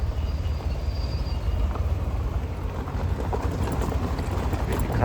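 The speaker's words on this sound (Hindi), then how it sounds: "और ये देखो नदी का फ्लो" River water rushes in a broad, continuous outdoor roar, steady and fairly loud, with rumbling wind-like noise over the flow and no clear voices.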